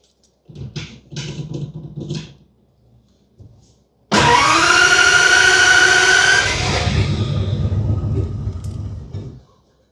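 A few short rumbling bursts, then a turbocharged 1950 Ford's engine roars to life loudly with a rising whine, runs steadily for several seconds, and cuts off.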